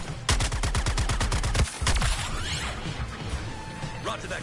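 Gunfire in Suicide Squad: Kill The Justice League, a rapid burst of about a dozen close, loud shots followed by a heavy crash and a scattered tail of smaller impacts and whooshes.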